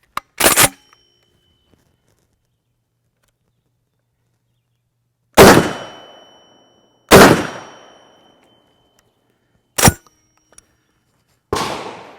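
A DP-12 double-barreled pump shotgun booms five times with long gaps between shots. Each blast is loud and sharp and rings out into a fading echo.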